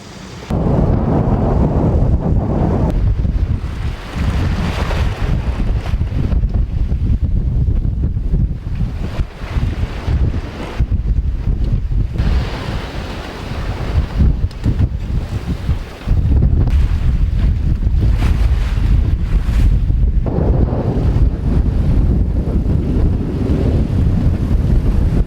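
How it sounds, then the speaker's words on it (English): A sailboat pounds through a rough sea in strong wind, with heavy wind buffeting the microphone and waves slapping and rushing against the hull in an irregular, continuous roar, no voices. "boat's bouncing like hell"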